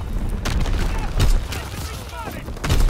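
Artillery battery firing in Call of Duty WWII, with several heavy booms spread across a few seconds beneath voiced battlefield radio callouts.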